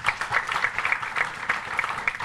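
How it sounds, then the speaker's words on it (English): A room full of guests claps at a book launch, a dense and steady patter of many hands, fairly loud and even across the full stretch with no voices over it. "Big round of applause for that."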